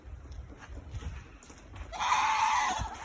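A baby goat on a poultry farm gives one loud, wavering bleat near the end, preceded by soft shuffling and a quieter cry in the background.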